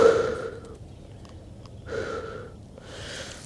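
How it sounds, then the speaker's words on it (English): A long breath out during a yoga stretch, heard as soft airy exhalations that come in three separate waves, near and quiet with no talking. "and breathe out"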